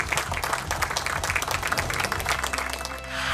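Applause breaks out at a Democratic Party lawmakers' caucus meeting as the party leader arrives. A roomful of people claps loudly and steadily for several seconds.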